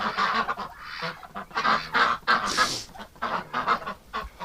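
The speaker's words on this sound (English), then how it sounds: "What a lot of pretty ducks." A backyard flock of ducks and geese honking and quacking loudly at close range, overlapping calls in rapid bursts with hardly a pause, no talk over them.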